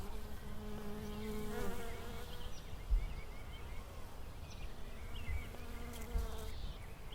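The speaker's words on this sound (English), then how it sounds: "You can also hear the bees buzzing around." Bees buzz around a blossoming tree on an outdoor walk in New Zealand, a soft continuous drone rising and falling as insects pass near and away, with faint ambient background.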